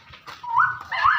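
A dog gives a short, rising whine or yelp, two brief vocal bursts close by, fairly faint against quiet surroundings.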